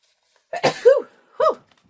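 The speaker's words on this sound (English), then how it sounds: "I have to sneeze, you guys." A sharp, explosive sneeze with a breathy burst and voiced cry, followed moments later by a second shorter sneeze-like burst, close and fairly loud.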